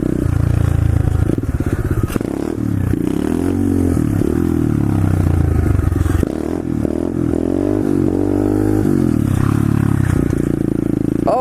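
A pit bike engine roars loud and close throughout, its pitch rising and falling as the rider works the throttle, with some rattly clatter from the bike.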